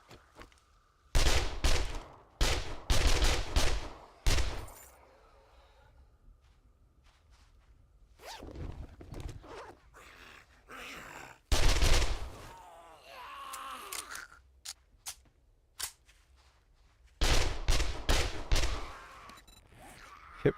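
Gunfire in the survival video game 7 Days to Die comes in several loud bursts of rapid shots, separated by quieter stretches of softer in-game sounds.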